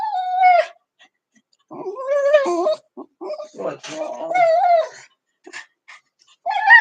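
A pet dog whimpers close by in a series of high, wavering whines and short yips, with pauses between them. A person briefly speaks among the cries.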